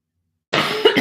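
A single harsh cough bursts out abruptly after silence, close to the microphone.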